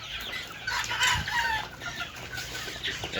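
Fayoumi chickens on a farm cluck and call continuously at close range, with a rooster's crow rising among the busy flock noise.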